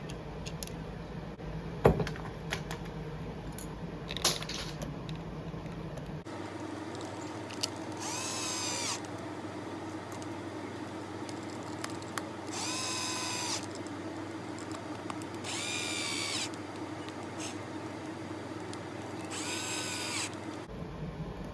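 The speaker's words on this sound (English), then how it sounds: "shove her back on, screw her back in" Parts being screwed back into a Dab Rite digital dab thermometer during reassembly with a small power drill, giving several short whirring bursts of a few seconds each over a steady low hum, close and fairly loud, with no talking.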